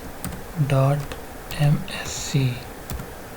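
Someone types a command on a computer keyboard in Windows 10, with quick clicking keystrokes scattered under a voice as he speaks.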